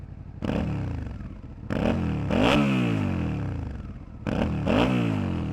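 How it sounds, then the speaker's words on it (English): A 2022 Suzuki SV650 V-twin exhaust revved in several sharp throttle blips, each rising and then falling back to a rumbling idle, loud and close with no talking. "Now let's hear what the exhaust sounds like."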